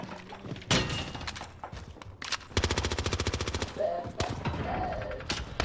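Rapid automatic gunfire in an online multiplayer shooter, a sustained burst of evenly spaced shots after scattered single cracks and thuds, loud and close, with faint game sounds between.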